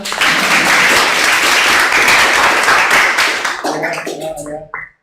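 Dense, steady applause from a crowd fills most of the clip, then thins into a few scattered claps before falling silent.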